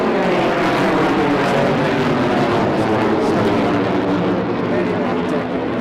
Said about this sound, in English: What a marvellous sight that is to have the Typhoon.